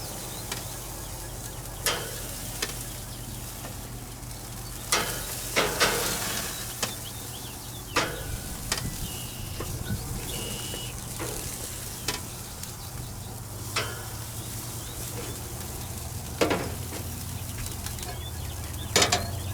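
Persian turkey burger patties sizzling on a grill, a steady frying hiss with scattered sharp pops and crackles, close and moderately quiet, with no talking.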